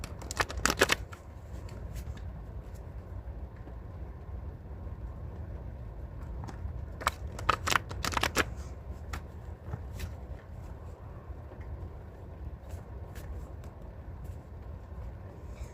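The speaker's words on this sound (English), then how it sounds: "So we're going to draw some cards on this situation." A deck of cards is shuffled during a tarot card reading, in two quick riffling bursts near the start and midway, otherwise quiet with a low room hum.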